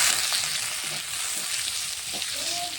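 Chopped tomato stirred into a cooked spice paste in a pan, a steady loud sizzle with scraping stir strokes throughout, no talk.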